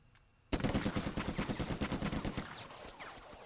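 Rapid bursts of simulated gunfire from the Lock & Load Tactical war game, starting abruptly after a brief quiet and continuing as a dense, rhythmic string of close, loud shots with no talk over them.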